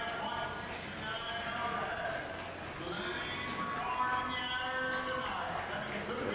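A walking horse's hooves clop faintly at an outdoor horse show, partly buried under people chatting nearby.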